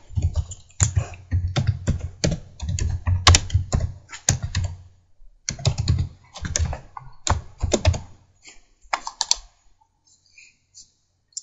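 Fast typing on a computer keyboard, close and loud, with dense bursts of key clicks, a short pause near the middle, then more sparse keystrokes tapering off; no talking.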